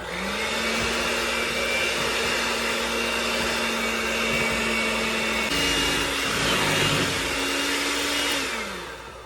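Electric hand mixer whirring steadily through cake batter of eggs, sugar, vanilla, baking powder and salt for a cinnamon pecan bun cake, a continuous close motor drone that shifts pitch briefly near the end and then winds down.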